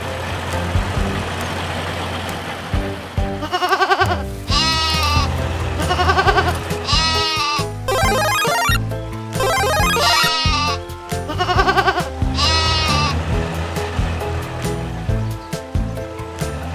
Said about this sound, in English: Goats are the